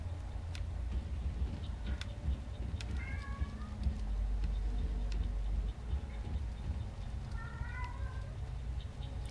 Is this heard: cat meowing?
yes